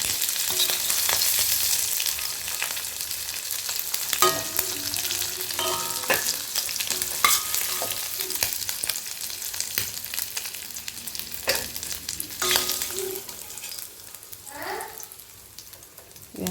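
Beef kabsa cooks and is stirred in a pot, with a continuous soft sizzle and scattered scraping and clinking of a spoon against the pot, close and moderate in level, with no speech.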